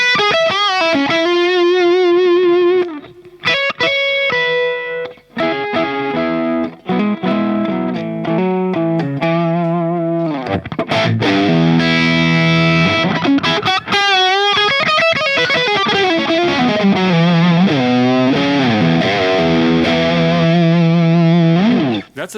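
An electric guitar runs through a Rodenberg BL800 British Legend 800 overdrive pedal with its gain boost switched on. It plays loud, heavily saturated chords and single-note lines with rich harmonic overtones, and there is no talking.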